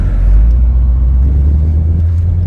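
A 1975 Chevrolet Corvette C3 Stingray engine pulls under light throttle, giving a loud, steady low rumble that holds throughout without talk.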